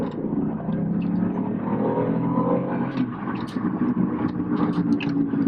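Alfa Romeo 159 with a 3.2 V6, four-wheel drive and automatic gearbox, its engine droning steadily while driving, a close, continuous low rumble from the cabin with faint tonal whine and no speech.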